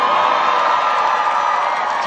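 A crowd at a PNE show cheers loudly and continuously, a dense wash of voices and whoops filling the space without a break.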